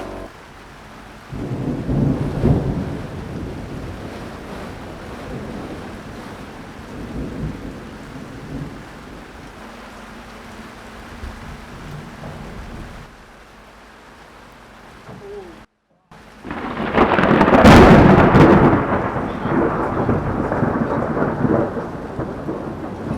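Thunder from dangerously close lightning strikes booms and rumbles over steady rain during a storm, with a heavy crack and roll near the end after a brief silence, and voices talking in between.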